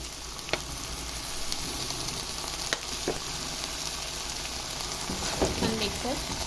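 Soy sauce sizzles in a hot pan while quinoa atamalada is prepared, a steady loud frying hiss with occasional light stirring clicks, no voices.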